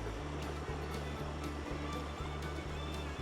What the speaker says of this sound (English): really nice creek